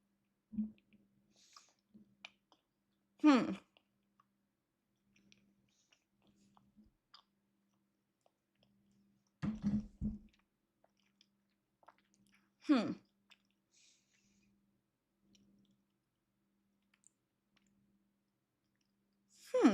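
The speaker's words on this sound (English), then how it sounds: "A piece of the everything bagel with some scallion cream cheese." Someone chewing a piece of everything bagel with scallion cream cheese, close and quiet, in a few separate bursts of wet mastication spaced by long silences.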